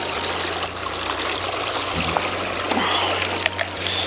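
Cold, clear spring water from the Mansarovar source on the Timmarsen Mahadev trek in the Niti Valley, steady and close, trickling and splashing continuously with no voices over it.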